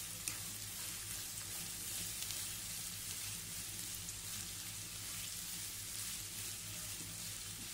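Soft, faint sizzling of ingredients frying in hot oil for egg puff filling, a steady crackling hiss with occasional light stirring scrapes, no voices.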